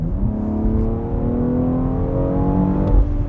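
A BMW X3M Competition with the S58 engine accelerates hard, its engine note climbing steadily in pitch, loud and close, with tyre and wind noise underneath.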